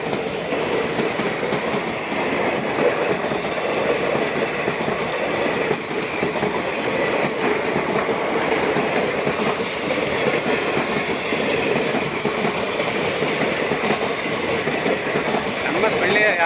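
A passing train rumbles loud and close with a continuous roar, clattering wheels and occasional squealing, over about sixteen seconds; a voice is faintly heard under the noise.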